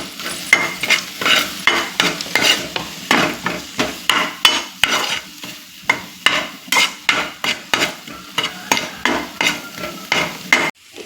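Stirring soy sauce into spicy corn chilli in hot oil: a spoon scrapes and knocks against the pan in a steady, repeated rhythm, close and fairly loud, with a low sizzle underneath and no voices.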